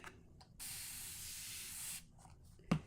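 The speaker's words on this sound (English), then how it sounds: "Then I'm going to turn it around and spray it again." A spray bottle mists water onto a craft piece in one steady hiss lasting over a second, near and fairly quiet, framed by soft handling noises and a small knock at the end.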